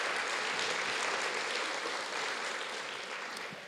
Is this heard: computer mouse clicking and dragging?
no